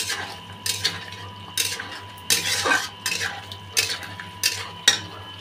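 Half-boiled potatoes and spices are stirred in a pan with a metal spoon, making regular clinks and scrapes against the pan about once a second, close and clear, with a faint sizzle underneath.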